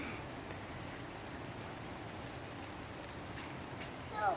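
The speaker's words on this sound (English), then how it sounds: "And we're playing in a rainstorm" Rain pouring down on a garden in a sudden February rainstorm, a faint, even hiss of drops throughout, with a brief louder rustle near the end.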